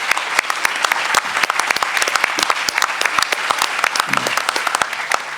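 Conference audience applauding steadily, dense overlapping claps sustained throughout at a fairly loud level, with a brief low voice murmur near the end.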